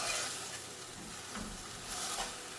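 Vegetables for dasheen bush being stirred together in a cooking pot, with a soft, steady scraping and gentle sizzle under low, continuous kitchen noise and no talking.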